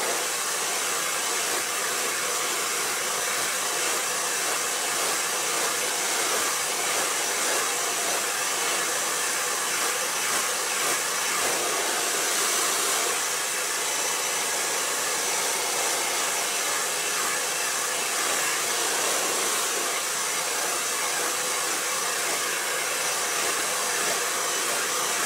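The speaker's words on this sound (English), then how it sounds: "I'm going to like combine these two sections and then blow dry them together" A hair dryer blows continuously at close range while sectioned hair is dried at home, producing a steady loud airy roar with slight fluctuations as it moves.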